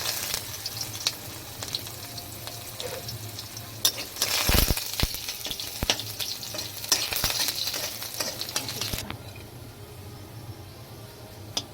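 Garlic sizzling in hot oil as a tempering for masoor lentils, with steady frying noise, frequent spatula scrapes and stirring clatter up close, then quieter toward the end.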